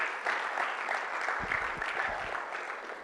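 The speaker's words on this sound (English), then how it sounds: "Can we have another round of applause for Leigh Bowman-Perks?" An audience applauds for Leigh Bowman-Perks at a leadership and values workshop, a dense wash of many hands clapping at moderate distance that gradually thins and fades.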